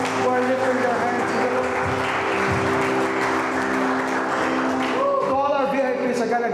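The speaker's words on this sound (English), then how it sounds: "Can we clap our hands for those people who are lifting their hands?" Church congregation clapping their hands during a worship service, a steady dense applause running throughout under sustained music and singing.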